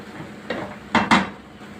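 Utensil scraping and clattering against a pan as vegetables are mixed for a mushroom vegetable rice dish, with several short metallic knocks and scrapes, close and moderately loud.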